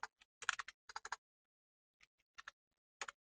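Keys tapped on a computer keyboard in short irregular bursts of clicks with brief pauses between, close and fairly quiet, no voices.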